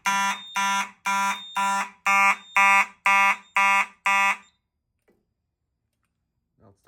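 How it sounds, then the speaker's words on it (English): After a key-activated Chevron pull station is tripped during a fire alarm board system test, a loud electronic horn blasts in eight evenly spaced pulses before falling silent. "Let's go ahead and key activate the Chevron pull station."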